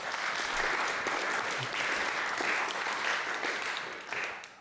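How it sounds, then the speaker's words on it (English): An audience applauds steadily to welcome a panel onto the stage at a discussion event, broad sustained clapping lasting several seconds before fading slightly at the end. "please welcome them to the stage with a very warm hand of applause"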